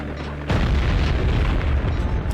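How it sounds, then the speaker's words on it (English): In the video game Sly 2: Band of Thieves, an explosion blows open a caboose with a sudden loud boom that becomes a dense, sustained roar. "I was still pretty clearly in that explosion"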